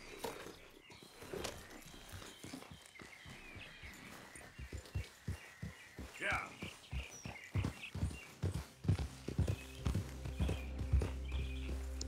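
Horse hooves clip-clop in a western video game, a steady walking beat of hoofbeats up close that grows louder and more regular toward the end.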